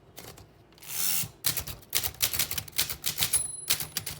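Corona Four manual typewriter from around 1928–1931, keys clacking in quick irregular bursts, with a brief sliding whoosh early on and a small bell ding near the end.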